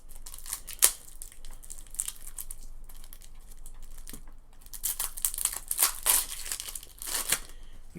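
Plastic wrap crinkles and tears as a Magic Doctor Who Timey-Wimey card deck is unwrapped, close and crisp, in irregular bursts with a brief lull midway before a busier, louder stretch of rustling.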